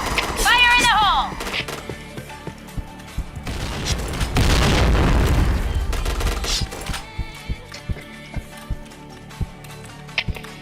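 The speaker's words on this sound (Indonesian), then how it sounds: "Fire in the hole!" A grenade in a shooting video game goes off as one deep, heavy boom in the middle, followed by scattered sharp gunfire and clicks, while a player calls out over the game sounds.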